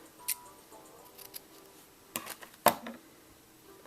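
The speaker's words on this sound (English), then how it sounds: "just pull tight to the other side and just cut it off" Scissors snip through crochet yarn on a sock monkey beanie, a couple of sharp, close clicks standing out from faint handling noise.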